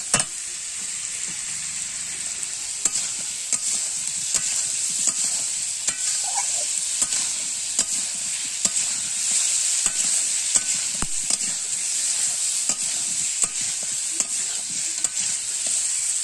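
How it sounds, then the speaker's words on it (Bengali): Potatoes and pointed gourd are stir-fried in a pan with very little spice, giving a steady close sizzle broken by frequent sharp scrapes and clicks of stirring throughout. "এবার আলু আর পটলটাকে একটু ভালোভাবে কষিয়ে নেব।"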